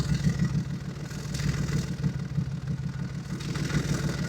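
A car engine idles steadily with newly fitted exhaust resonators, giving a subdued, even low rumble with a gentle pulsing rhythm, close and continuous with no talking.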